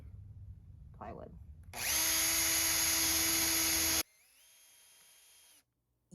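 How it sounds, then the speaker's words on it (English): A power drill bores through shoes and plywood: a loud, steady high-pitched whine for about two seconds, then a quieter spin-down hum before it stops, with a faint voice just before. "I am just going to drill 2 holes through the shoes and through the plywood."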